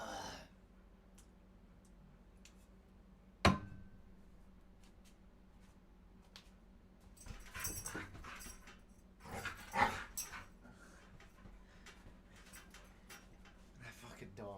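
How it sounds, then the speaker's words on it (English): A dog pants and whimpers softly, with a sharp click and a few louder bursts of noise partway through, under quiet background talk. "That fucking dog's funny."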